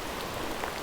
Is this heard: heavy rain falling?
yes